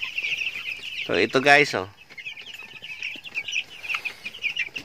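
Broiler chicks peep in a coop in a steady, high chirping chorus, close and fairly loud, while someone briefly talks over them.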